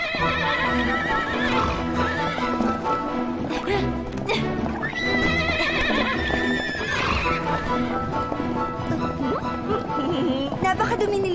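Palace horses whinny and neigh repeatedly while hooves clip-clop underneath, loud and close, mixed with background music and voices talking over the animals throughout.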